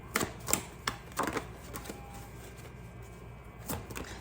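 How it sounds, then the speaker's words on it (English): Large tarot cards being shuffled by hand, heard as a series of crisp, close flicks and slaps in irregular bursts with quieter rustling between. "These are the hardest cards to shuffle because they're so big."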